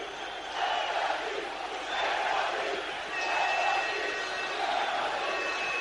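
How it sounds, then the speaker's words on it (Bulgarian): Football fans shout and roar in the stadium sectors during a Levski–Sioni match, a dense, distant crowd din swelling in repeated waves of chanting and cries with a faint whistle-like tone threading through. "Чувате възгласите в сектор В и сектор А"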